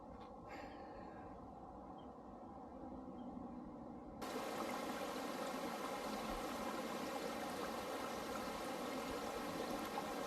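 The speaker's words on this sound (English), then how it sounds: "When the snow gets up on the mountain tops, the water just flows." A snowmelt-fed mountain stream on a Utah hike flows in a steady, close rushing wash that grows louder and fuller about four seconds in and then holds without pause.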